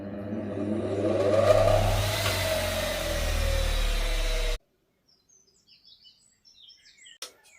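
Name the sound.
powerful high-speed polishing machine spinning on a test run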